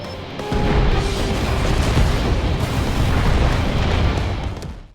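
A sustained, roaring rumble of remotely detonated explosives in Final Fantasy XIV fills the clip, dense low booms layered together without pause, loud and close, fading out at the end.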